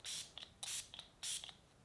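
Catrice Prime and Fine Dewy Glow setting spray misted in three short, close hissing bursts, each followed by faint soft clicks from the nozzle.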